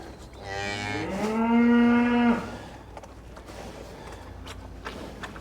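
A single long, loud moo from a cow swells and fades, followed by quieter creaks and shuffling in a barn.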